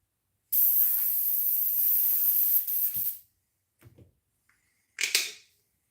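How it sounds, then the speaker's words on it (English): An airbrush being cleaned gives a loud, steady hiss of spray lasting nearly three seconds, then small clicks and handling noises, and a final short sharp burst of spray. "Let's get the airbrush cleaned."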